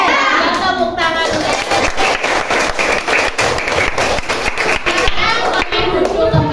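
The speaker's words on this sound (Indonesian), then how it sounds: "Tepuk tangan." A primary school class claps hands together in a classroom, a run of sharp, rhythmic claps repeated many times at close range, with a teacher's voice mixed in.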